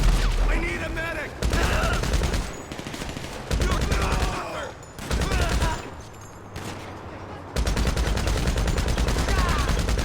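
Rapid bursts of gunfire in GTA Online, dense loud volleys that stop and restart several times, then a long sustained stretch of automatic fire, with no talking.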